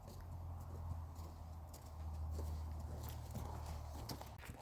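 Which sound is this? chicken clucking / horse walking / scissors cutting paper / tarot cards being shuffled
horse walking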